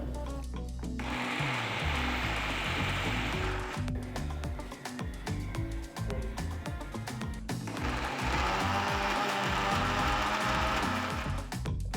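A mixer grinder runs in two loud whirring bursts of a few seconds each, blending coconut chutney with extra water until smooth, with a short pause and light music between them.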